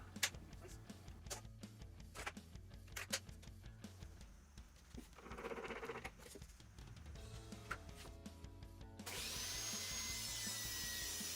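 Table saw work on a sheet of scrap wood, with a guide block set for a 5/8-inch cut: close wooden knocks and scraping, then a steady, loud whirring roar for the last couple of seconds.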